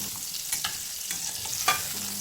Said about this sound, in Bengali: এদিকে দেখুন মশলাটা ভাজা হয়ে গেছে আমি তুলে নিচ্ছি